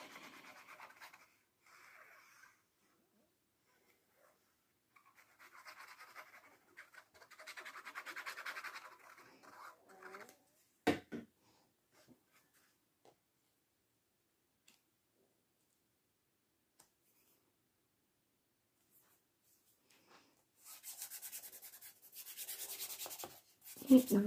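Paper being rubbed down by hand to glue it onto a handmade mini album, with soft scratchy rubbing strokes in short bursts, a few sharp taps, and pauses of near silence between them.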